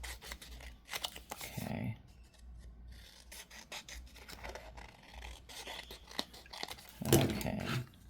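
Scissors trimming paper for a holiday craft project, with soft rasping cuts and rubbing in short bursts, fairly quiet, with a brief spoken word nearby.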